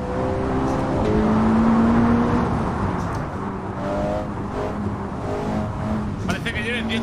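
A tuned car engine roars while driving through a tunnel in Assetto Corsa on a trafficked route, loud and continuous with rising and falling revs, and someone talks over it.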